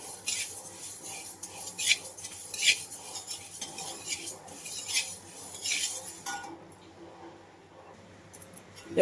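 Moong dal being roasted and stirred in a pan over low heat, a utensil scraping and clinking against the metal in repeated strokes for several seconds before the stirring stops.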